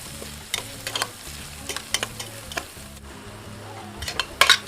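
Cabbage is stir-fried in a wok for pansit bihon, giving a steady soft sizzle broken by repeated scraping and clanking from the spatula against the pan, with a louder clatter near the end.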